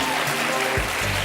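A studio audience at a French television game show applauds, a steady dense clapping that fills the whole moment.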